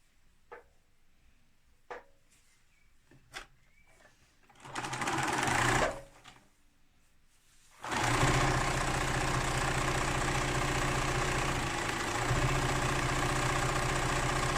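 A sewing machine stitches a tote bag seam, with a few clicks and a short whirring burst, then a long steady loud run of stitching close by.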